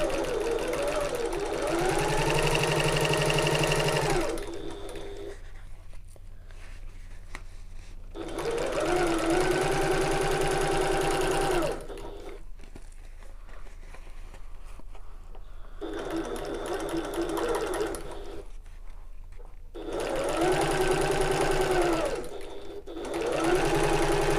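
A sewing machine stitching the gusset seam of a fabric bag around its curves, whirring in three or four steady runs of several seconds each, with quiet pauses between while the fabric is repositioned.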